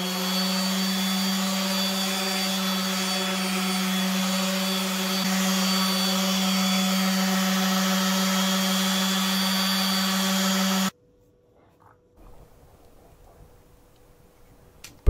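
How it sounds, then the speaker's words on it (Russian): A power sander dry-sanding without water whirs steadily with a constant high-pitched drone for about eleven seconds, then cuts off abruptly, leaving near silence. "Сперва шлифую без воды,"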